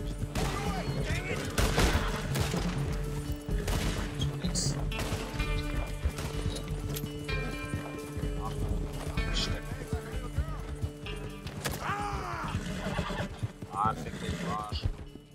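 A horse whinnies and its hooves clip-clop amid bursts of gunfire in the Western video game Red Dead Redemption 2, with loud, busy shots and animal calls layered over continuous game sound and voices.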